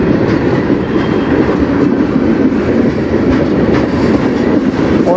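A CN yard train hauled by yard locomotives passes close, a loud, continuous rumbling roar of rolling railcars with steady wheel clatter and no talk.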